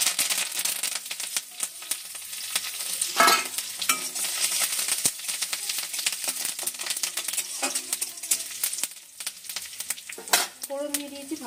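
Mustard seeds, cumin and curry leaves sizzling and popping in hot oil while being stirred, with crackling bursts and spatters, close and fairly loud.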